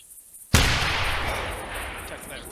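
A single inline muzzleloader rifle shot at a deer in the hunting game theHunter Classic: one sharp, loud blast that then rolls off in a long, fading echo, with no other sound around it.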